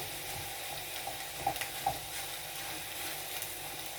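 Mutton mince sizzles steadily in a pan for samosa filling, with a few soft scraping clicks as a spatula breaks it apart; close and continuous, no voices.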